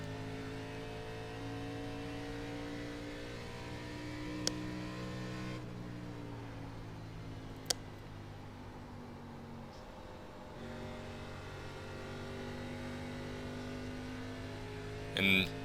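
Race cars in the iRacing video game, ARCA Menards Series at Nashville, hold a steady engine drone with layered harmonic whine on the last lap, gently shifting pitch, plus a couple of brief clicks.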